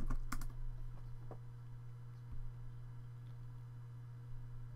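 Quick bursts of keys tapped on a computer keyboard, a few clicks early on and then sparse taps, quiet against a steady low hum.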